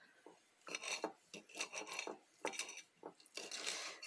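Knife cutting cooked shrimp on a board for a shrimp sandwich roll, heard as soft scraping and tapping strokes in an irregular rhythm, close and fairly quiet, with no talking.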